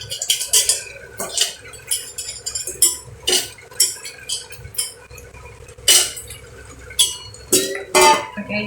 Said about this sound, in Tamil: இந்த கறியை இதில் போடுறோம்.